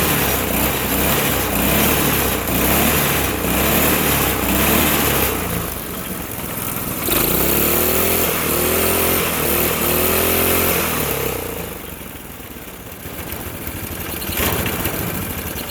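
A Honda GX200 engine on a mini go-kart runs with its fuel shut off, burning the carburetor dry: a loud buzzing idle that sags, surges and stumbles irregularly throughout, with no talking.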